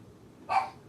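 A single short dog bark or yip, close by and moderately loud, heard alone during a home cooking session in a kitchen.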